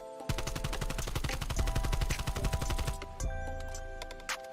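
An AK-47U submachine gun fires in Black Ops Cold War, a close, loud, rapid automatic burst of evenly spaced shots lasting about three seconds, then a short pause and a few trailing shots.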